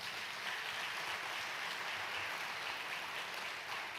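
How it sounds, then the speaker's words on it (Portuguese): A church audience at a free lecture applauds in a steady, soft wash of many hands, fairly distant and even throughout, with no voices over it. "Você pode aplaudir a Jesus por isso?"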